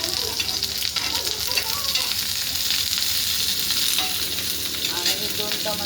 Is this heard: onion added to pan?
yes